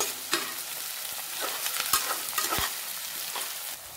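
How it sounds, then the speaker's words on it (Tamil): Sliced large onions sauté in a hot pan, a steady sizzle with repeated stirring scrapes and clinks of the spatula, close and fairly loud, no talking. "வெங்காயத்தை நல்லா வதக்கிக்கிடுவோம்"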